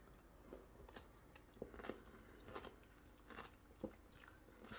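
Quiet, crisp crunching from chewing fermented purple cabbage, several separate bites spaced a second or so apart, close and isolated.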